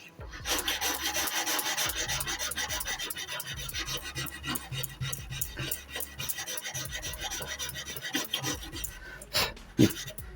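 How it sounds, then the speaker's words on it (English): Wooden planking on a San Felipe model ship is hand sanded in a steady run of quick, rasping strokes, close and continuous, ending with a couple of sharper scrapes. "And give a little bit of sanding."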